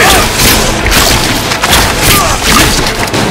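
Heavy booming grenade blasts in Warhammer 40K: Space Marine 2 land amid dense, continuous battle noise, with a brief voice in the mix.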